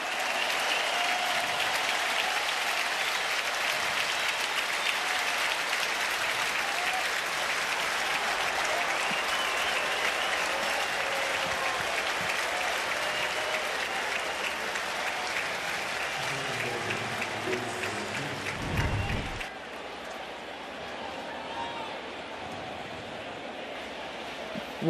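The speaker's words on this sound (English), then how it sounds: "listen to this crowd" Crowd at a Yankees–Angels baseball game cheering and applauding in the 8th inning: a broad, sustained roar with clapping for about twenty seconds that then drops to a lower murmur, heard from within the stadium.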